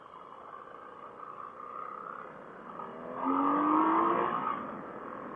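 A 2017 BMW R1200 GS Adventure motorcycle engine runs steadily, then swells into a rising, revving acceleration whose pitch climbs for a couple of seconds before easing back.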